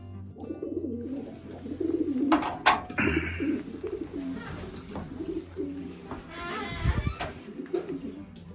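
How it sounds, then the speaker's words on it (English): Soft, low cooing from racing pigeons repeats steadily throughout, mixed with occasional flutters and scattered bird noises from a fairly close flock. "all the birds are back"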